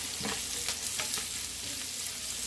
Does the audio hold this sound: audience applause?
no